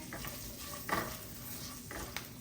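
Asafoetida frying in hot oil for lemon rice, a soft sizzle with a few scraping stirs of a spoon in the pan, close and fairly quiet, with no voices.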